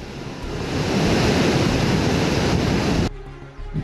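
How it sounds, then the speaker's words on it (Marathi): Water gushing from the five opened gates of Chaskaman dam in Pune district during heavy rain: a loud, steady broadband roar that cuts off abruptly near the end. "चासकमान धरणाचे 5ही दरवाजे उघडण्यात आलेत."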